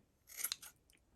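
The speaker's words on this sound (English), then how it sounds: "And then you trim it up and you got a little pom-pom." A couple of quick scissor snips trim a small yarn pom-pom, crisp and close, then fall silent with no talking.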